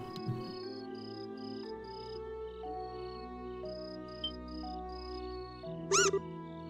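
A short cat meow from the video game Trails in the Sky comes near the end, over steady game music with repeating chime-like tones.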